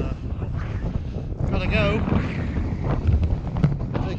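Gusty mountain wind buffets the microphone in rough, uneven roars, close and loud, while a person speaks briefly over it.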